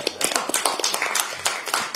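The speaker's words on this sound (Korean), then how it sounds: "위로와 응원의 박수를 부탁드리겠습니다." Applause at a Democratic Party supreme council meeting: scattered hand claps from a modest group in a room, close and fairly crisp, with irregular overlapping taps and no one speaking.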